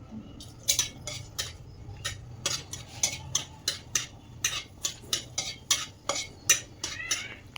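Whole cinnamon, cloves and cardamom frying in a pan, heard mostly as a rhythmic series of sharp metal spoon scrapes and clinks against the pan over a faint low sizzle.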